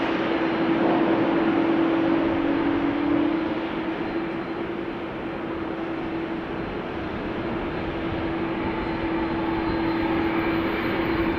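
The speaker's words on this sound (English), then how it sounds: "And the A330's engines are starting." Airbus A330 engines starting at Amsterdam Schiphol Airport: a sustained whine with a steady low tone sits over a broad rumble of jet noise, distant and continuous for about eleven seconds.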